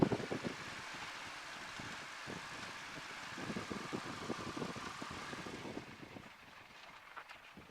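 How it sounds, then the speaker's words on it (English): Piper Cub airplane taxiing over a bumpy surface: a steady engine and propeller drone with rattling and wind noise, fairly faint, easing off slightly near the end, no talking. "You notice when I'm taxiing, I do S-turns."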